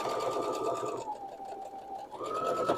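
A sewing machine runs a quilt block seam for a Crazy House block in one continuous, close hum with a whirring pitch that dips in the middle and rises again.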